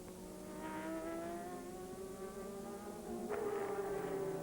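A Mugen Honda race car at a 2002 Japanese GT race drones on at high revs, a sustained harmonic engine whine that holds steady and then rises in pitch near the end as another car closes in.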